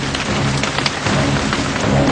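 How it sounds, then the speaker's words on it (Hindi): Heavy rain pours down in Gujarat, a dense, steady roar of drops hitting surfaces, loud and continuous with no voices. "गुजरात में इन दिनों मुसीबत की बारिश हो रही है।"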